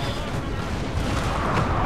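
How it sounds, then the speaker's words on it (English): Cannon fire on a Napoleon Total War battlefield, a dense, continuous rumbling barrage of booms that blends into a steady roar with no clear gaps between shots. "just a few shots with the cannons absolutely annihilated this general unit"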